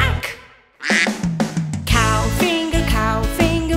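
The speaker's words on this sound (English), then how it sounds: "Duck, finger, where are you? Quack, quack." A cartoon duck in a children's nursery rhyme quacks in a quick run of loud, nasal, close calls, set against bright sung music.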